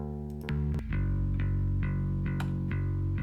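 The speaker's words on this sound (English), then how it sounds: "That's my bass without any plugins." A bass guitar played clean through no plugins or effects, a few plucked notes ringing in sequence with a full, sustained low tone, loud and alone.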